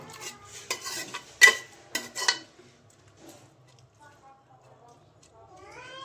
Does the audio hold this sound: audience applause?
no